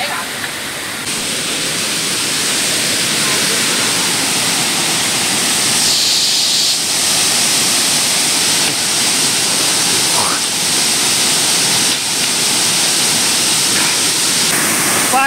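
Water rushes loudly and continuously at Madheghat waterfall after heavy rain, a dense, steady roar filling the whole stretch without a break.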